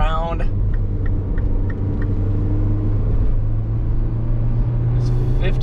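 A 2013 Mini Cooper Hardtop drives along a road, giving a steady low engine rumble and tire whir throughout. Brief talk is heard at the very start.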